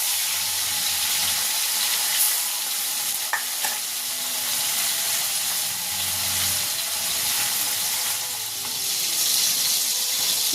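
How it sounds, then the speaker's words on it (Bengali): Fish coated in salt and turmeric fries in hot oil, a steady loud sizzle and hiss throughout with occasional faint clicks of stirring, no voices. "তেল গরম হয়ে গেছে, যে মাছটাই নুন হলুদ মাখিয়েছিলাম ওই মাছটা এবারে ভেজে নেব"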